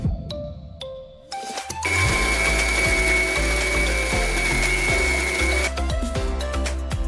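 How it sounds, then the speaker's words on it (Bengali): A kitchen mixer grinder blends spice paste for a Bengali fish dish, starting after a few clinks and running loud and steady for several seconds before cutting off, close up with no talking. "আবার আমি মিক্সিতে এটাকে ভালো করে বেটে নেব।"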